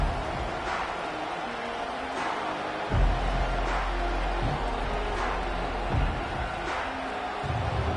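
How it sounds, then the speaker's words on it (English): Stadium crowd roar from the NCAA 25 college football video game, a steady dense wash of cheering that swells in a few surges, heard alone without commentary. "This crowd going to try to make life miserable for these guys."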